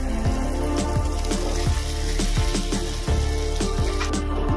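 Fried potatoes and pointed gourd drop into hot, oily masala for a prawn curry, setting off a loud, close, continuous sizzle with steady crackling and rhythmic scraping clicks of stirring, and no talk.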